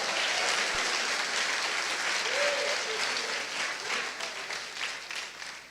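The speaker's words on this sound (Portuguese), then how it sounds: "Dá uma salva de palmas ao Senhor." A congregation at a church service breaks into sustained applause, dense and even, gradually fading toward the end.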